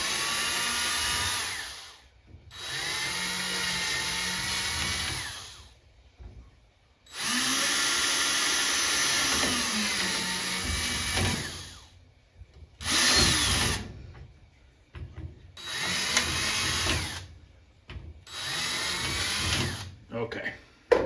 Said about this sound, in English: Let me get my drill bit here and we'll just go straight down.